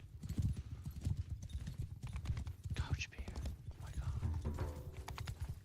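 Horse hooves clip-clop in a video game, a quick rhythmic run of hoof beats with a brief whinny, close and clear, while people talk over it.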